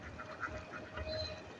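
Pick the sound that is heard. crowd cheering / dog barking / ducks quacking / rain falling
ducks quacking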